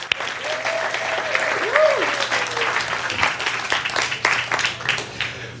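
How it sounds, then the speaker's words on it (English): An audience at a hypnosis workshop claps for several seconds, with a warm crowd roar, scattered sharp claps and some voices and cheers mixed into the applause. "let's give him a round of applause."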